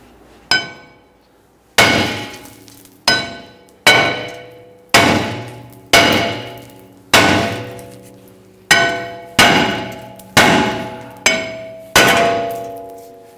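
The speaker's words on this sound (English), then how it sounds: "we're going to go ahead and whack this with the hammer a few times" A hammer strikes the brake rotor of a 2010–2019 Ford Taurus during a rear brake replacement, eleven loud ringing metallic blows at a steady pace, each clang decaying before the next, close and alone.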